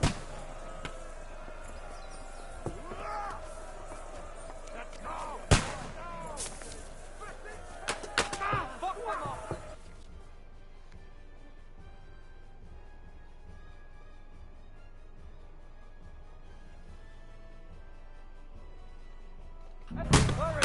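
Gunfire during a gate-defense battle in Kingdom Come: Deliverance 2, a handful of sharp shots and bangs scattered over the first ten seconds amid battle noise and shouting voices, then a quiet lull before one more burst at the end.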